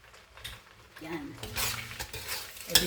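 Stirring a cheese mixture in a pan while cooking, scraping and clattering strokes with a soft sizzle underneath, growing busier partway through, close and moderately loud.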